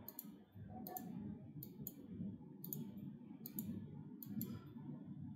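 Mouse clicks in Microsoft Excel while hiding chart buttons on a pivot chart, heard as sharp isolated clicks in irregular pairs and singles over a steady low room hum, fairly close and clear.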